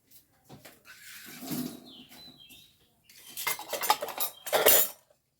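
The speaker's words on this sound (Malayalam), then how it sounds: "മുട്ട മിക്സ് ചെയ്യുന്നുണ്ടേ" A spoon clinks and scrapes against a bowl as eggs with salt and chilli powder are beaten, in short uneven bursts with brief pauses between, close and fairly quiet, no voices.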